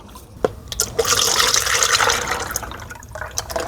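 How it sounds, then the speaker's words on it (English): DIPYOURCAR Ultra High Gloss paint mix is stirred in a cup, a steady wet swishing and sloshing with a few sharp clinks at the start and end. "let's give this a stir for 60 seconds, it says."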